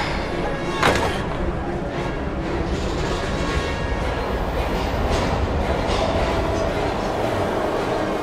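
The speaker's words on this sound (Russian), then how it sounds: "Надо запрыгнуть в этот поезд, это наш последний шанс." A train in the video game Heavy Rain rumbles continuously, a loud, dense roar with faint rhythmic clatter and a single thump early on.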